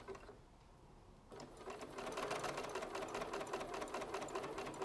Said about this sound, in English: And sewing right to the edge of the pocket.